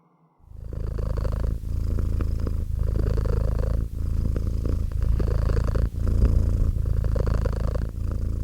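A cat purring steadily after trying valerian root, a close, continuous rumble with a regular rhythm of soft breaths throughout.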